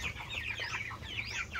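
Chickens on a farm cluck and chatter softly at a distance, a busy overlapping flock with no talk.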